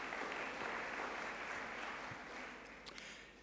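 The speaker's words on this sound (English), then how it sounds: "you can give them a hand of applause," An audience at the opening night of the 20th Karlsruhe Dialogues applauds the Baden State Theatre performers, a dense, sustained round of clapping that stays full and even before gradually thinning toward the end.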